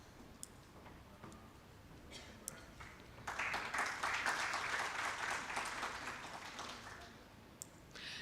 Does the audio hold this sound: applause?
yes